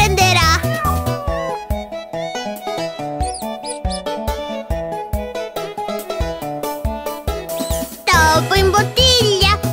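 Cartoon cat meows ring out in a bouncy Italian preschool song about a cat chasing a mouse. Short, high mews come at the start and again near the end over a steady rhythmic backing and sung vocals.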